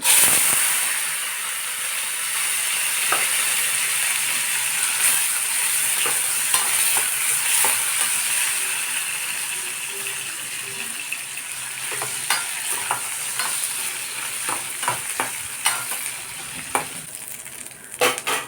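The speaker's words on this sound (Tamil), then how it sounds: "எண்ணெய் நல்லா சூடானதும் ஒரு 2 கைப்பிடி அளவு சுண்ட வத்தலை சேர்த்துக்கோங்க." Dried turkey berries (sundakkai vathal) fry in hot oil in a pan with a loud, continuous sizzle. Occasional scraping stirs grow more frequent toward the end.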